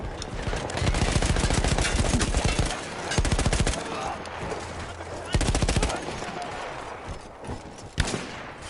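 Battlefield 1 machine gun once manned by Austro-Hungarian troops: sustained rapid automatic bursts, loud and close, in long rattling strings with short gaps and scattered battlefield noise around them.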